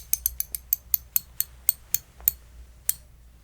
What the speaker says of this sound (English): I'm just gonna tighten this bolt here.